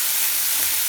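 Fried rice with soy sauce and sesame oil sizzles steadily in a hot pan as it is stirred, a close, continuous hiss with no clear breaks.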